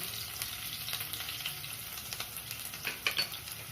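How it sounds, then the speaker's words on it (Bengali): Minced garlic fries in hot oil for a Bengali cauliflower roast, giving a steady close sizzle with a few light stirring scrapes near the end and no voices. "এবার এর মধ্যে রসুনের কিমাটা দিয়ে দিলাম"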